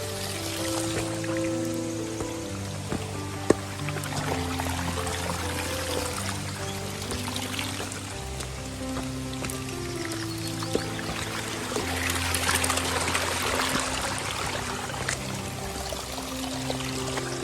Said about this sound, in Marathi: जिथून कंटिन्यू असं पाणी वाहून राहिलं आहे